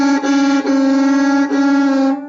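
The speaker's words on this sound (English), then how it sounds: "So here's an out of tune drone." A fiddle bows a sustained drone on two strings that are out of tune with each other, giving a rich buzzing tone with a slight beating wobble. It plays close and alone for about two seconds, with a couple of bow changes.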